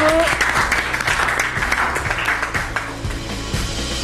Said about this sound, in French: Franchement, on peut vous applaudir, hein, vraiment.